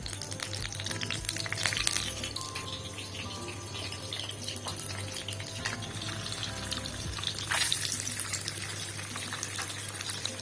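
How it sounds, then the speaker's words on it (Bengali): An egg fries in oil with turmeric, chilli and a sprinkle of salt, producing a continuous soft sizzle and crackle close by over a low steady hum, with occasional faint clatter. "ডিম একটু হলুদ মরিচ দিয়ে ভেজে নেব।"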